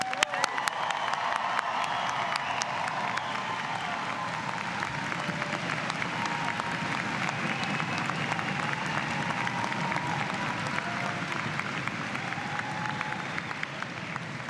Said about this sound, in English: let's show the president what we can really do for a cheer